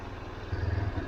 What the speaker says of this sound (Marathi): आपली गाडी थोडी गरम झाली पाहिजे त्यासाठी थोडंसं गाडीचा रेस वगैरे देऊ